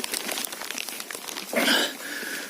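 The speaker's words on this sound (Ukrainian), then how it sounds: "Пакет будемо ставити." Plastic bag crinkling and rustling while someone picks porcini mushrooms in a Carpathian forest, with a louder close crumple burst midway over a steady soft rustle.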